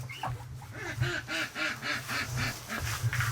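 Breeding ducks at a feeder give a run of rhythmic, nasal quacks, close and repeated in a steady series, over a rumbling background of other birds and movement.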